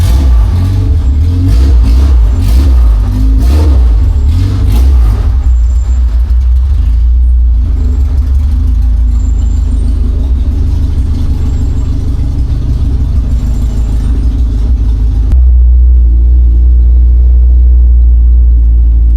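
Classic Honda engine with a loud exhaust and a broken shifter, rumbling steadily at close range with loud low-end drone for about fifteen seconds before dropping to a smoother, quieter idle.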